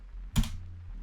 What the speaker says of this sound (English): So I'm going to type in private player input actions